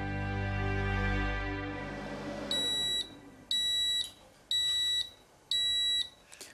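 A Japanese rice cooker signals that the rice is done with four bright, evenly spaced electronic beeps, heard clearly over a fading low tone and background noise.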